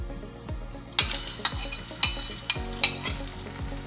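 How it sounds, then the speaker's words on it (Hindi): Onion frying in hot oil in a pot for matar pulao: a steady loud sizzle with rhythmic spatula scrapes and occasional metallic clinks, close up and with no talk. "ऑयल गर्म हो जाए तो अब मैं इसमें प्याज शामिल कर रही हूँ।"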